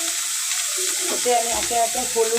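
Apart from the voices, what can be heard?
onion paste frying in a pan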